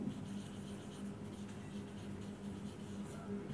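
Pen or pencil writing out an English grammar example during a lesson, a faint, continuous scratchy stroking close by against a low background hum.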